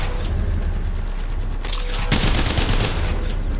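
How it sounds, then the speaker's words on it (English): Rapid gunfire bursts from the video game Apex Legends Mobile, dense strings of automatic shots, growing louder and heavier in the second half, with no talk over it. "Opening fire."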